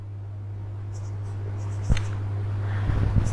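Pen writing on paper or board, faint scratchy strokes over a steady low electrical hum, with a sharper tap partway through and a few quick strokes near the end.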